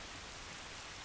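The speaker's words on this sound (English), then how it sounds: "It's raining." Steady rain in the video game The Last of Us, a dense even hiss of falling drops with no breaks, alone without voices.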